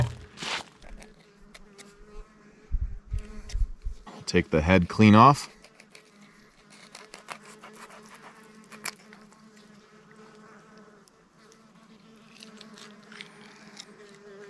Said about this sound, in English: Loaded with flies and wasps trying to eat the trout.